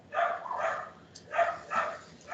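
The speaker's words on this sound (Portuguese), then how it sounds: "Os cachorros estão bravos aqui." Dogs barking in short bursts, four or five sharp barks with brief gaps between them, coming from somewhere near an indoor room rather than right at hand.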